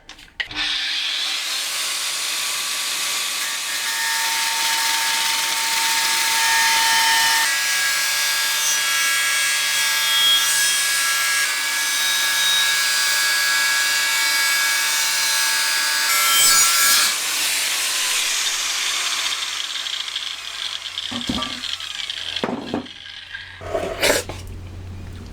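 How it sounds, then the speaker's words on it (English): Angle grinder cutting the top off a steel gas bottle for a forge build, a loud close sustained high-pitched grinding screech lasting about twenty seconds, then spinning down into scattered clanks and handling knocks. "The next thing to do is cut off the top of this. An angle grinder"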